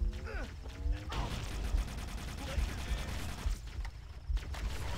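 Rapid automatic gunfire in Halo: Combat Evolved, a fast, dense burst of shots rattling for several seconds with brief gaps, loud and close, with faint game sounds beneath.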